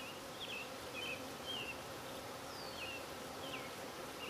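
Honeybees buzzing around a backyard hive on a quarter-acre homestead, a faint continuous drone with individual bees whining past now and then.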